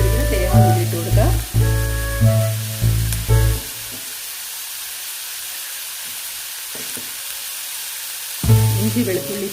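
Chopped coconut pieces fry with small shallots in hot oil in a pan, giving a steady, soft sizzle in the middle stretch, with background music at the start and end.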